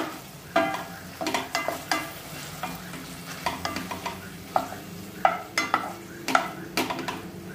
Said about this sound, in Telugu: ఇలా మూత పెట్టుకొని మధ్య మధ్యలో కలుపుకుంటూ ఉండాలి